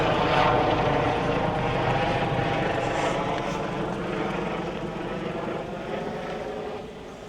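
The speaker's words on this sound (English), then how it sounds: "while a helicopter flies overhead" A steady, loud rotor drone of a helicopter passing over a London park on a hot summer day, fading slightly as it continues, with no talking.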